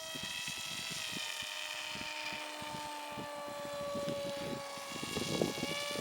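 A model airplane flies overhead, its steady motor drone humming continuously with a faint rise near the end over outdoor background noise.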